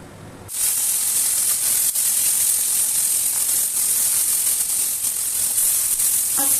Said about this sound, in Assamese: এতিয়া মই বাকী মাছখিনি ভাজিম